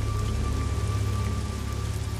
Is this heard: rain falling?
yes